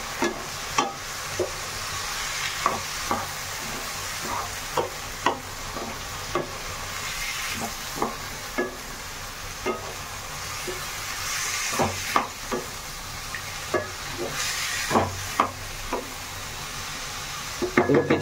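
Bottle gourd and potato frying in a pan, a steady hiss of sizzling oil broken by regular scraping knocks of a spoon stirring, close and continuous.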